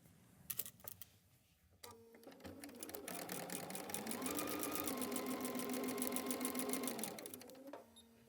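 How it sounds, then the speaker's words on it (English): Handling noises come first, then a sewing machine starts up and runs continuously for several seconds, stitching a quilt block seam for a wall hanging, before it stops and a few small clicks follow. "I will sew from this side so I can keep an eye on that seam."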